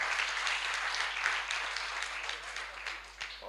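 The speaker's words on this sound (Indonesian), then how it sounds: "Tepuk tangan bagi Tuhan, haleluya." Applause during a church retreat session for servants of God: a dense, steady wash of many hands clapping, fairly distant and soft, continuing for several seconds without talk.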